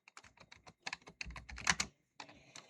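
Rapid keystrokes on a computer keyboard, close and fairly loud, in quick uneven bursts with a short pause before a final run of typing, no voices.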